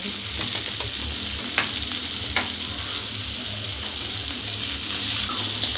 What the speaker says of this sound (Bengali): পেঁয়াজ আর এই যে রসুন, পেঁয়াজ রসুনটাকেও ভেজে নেব